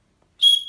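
An old whistle dug up while mudlarking in Scotland gives one short, loud, shrill blast, close up, after a moment of silence.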